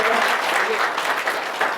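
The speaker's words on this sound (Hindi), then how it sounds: "जोरदार तालियों से उनका स्वागत" Audience applause greets guests at a Brahma Kumaris gathering, a dense steady wash of many hands clapping at once, moderately loud and continuous throughout with no pause.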